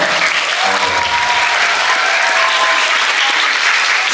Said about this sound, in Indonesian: Sekali lagi, tepuk tangan buat Bapak Ibu guru kita semuanya.